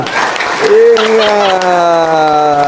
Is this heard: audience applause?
yes